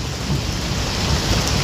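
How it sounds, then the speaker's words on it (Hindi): Heavy rain pours down loud and close, a dense, unbroken roar of downpour with no voices over it. "ऐसे बारिश आ रही है यहाँ पे,"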